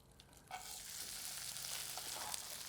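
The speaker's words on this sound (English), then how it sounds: "you see it's starting to sizzle now" Potato cakes made from Christmas leftovers sizzle in a frying pan, a steady close hiss of frying fat that swells after a soft clatter and continues without talk.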